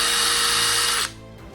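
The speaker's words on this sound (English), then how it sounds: "I start drilling that hole." A power drill bores into steel plate for tread-plate armor, a loud steady high whine that cuts off abruptly about a second in, leaving a quiet tail.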